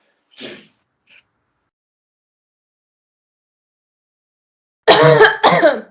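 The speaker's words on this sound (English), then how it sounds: "Stronger cough." A brief faint hiss and a tiny click, then near silence, followed by two loud, close, harsh coughs in quick succession.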